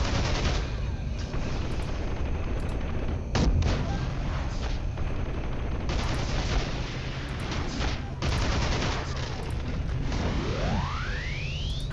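Flying tri-cannon pet in the Guild Wars 2 video game fires repeatedly amid dense, continuous game combat, bursts of gunfire-like booms layered over loud battle noise, with a rising whine near the end.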